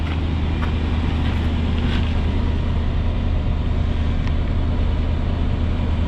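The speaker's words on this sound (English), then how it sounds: "That's a cold start." Engine of a 1989 Chevrolet Suburban 1500 2wd idling just after a cold start, a steady low rumble held close and loud, with no break in its tone.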